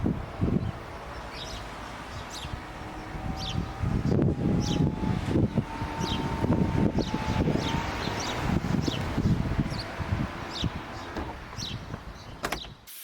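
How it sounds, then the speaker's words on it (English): A convertible car's folding roof runs through its motor-driven cycle, a steady whirring hum with mechanical clunks and latch clicks as it moves up and down, heard up close outdoors with light wind. "let's actually see how this roof goes up and down"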